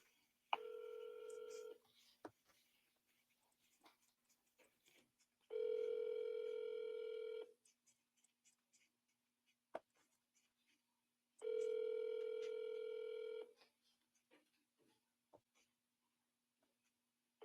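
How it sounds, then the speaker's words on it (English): Three long telephone ringback tones with steady harmonic pitch, each lasting about two seconds and spaced several seconds apart, clear and close, with faint clicks and rustles between rings and no talking. "So I'm gonna give her a call now."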